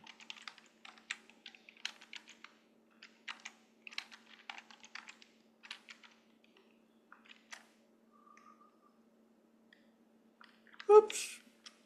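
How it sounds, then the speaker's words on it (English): Keystrokes on a computer keyboard as a path name is typed into an editor during a class lecture, coming in quick irregular bursts of clicks at close range, then a louder clatter near the end. "Notice I'm typing in the path name from hell here."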